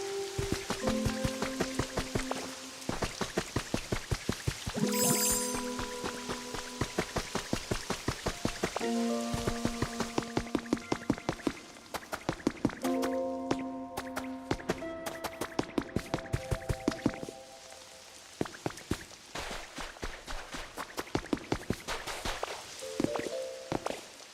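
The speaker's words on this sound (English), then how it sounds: "Well, we got some crazy rain out here." Heavy rain in the video game Pokopia, a steady patter broken by clustered clicky drops and possible footsteps, playing alongside melodic game music tones throughout.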